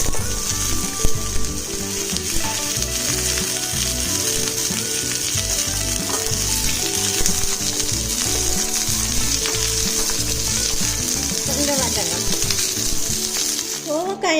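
Chopped ivy gourd sautéing in hot oil in a pan for a tamarind curry, a steady, close sizzle and crackle that runs unbroken throughout, with a few stirring scrapes and no talking.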